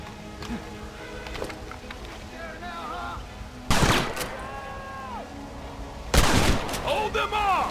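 Gunfire in Red Dead Redemption during a fight with the United States Army: scattered game shots, then two loud, close blasts that ring out and echo, with voices shouting between them.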